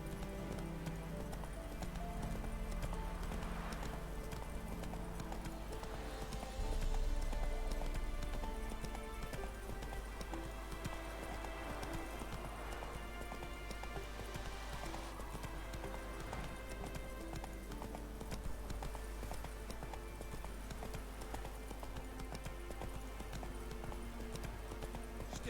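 Roach, Geralt's horse in The Witcher 3, clip-clops steadily at a walk, hooves thudding in an even rhythm over low ambient game sound, with a faint whinny-like tone in the mix.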